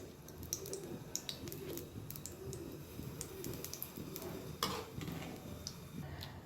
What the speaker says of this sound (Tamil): நெய் சூடானதும் முந்திரி பருப்பை வறுத்தாச்சு.